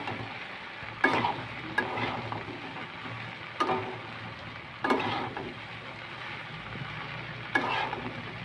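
Taro stolons fry together with prawns in a pan, giving a soft continuous sizzle punctuated by a handful of louder scraping stirs at irregular intervals.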